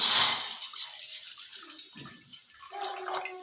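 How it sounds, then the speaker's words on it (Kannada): Water poured into a cooking pot in a home kitchen: a brief splashing gush at the start, then fading trickles and drips, close and moderately loud with no talking. "ಇವಾಗ ನೀರು ಹಾಕ್ಕೊಳ್ಳೋಣ"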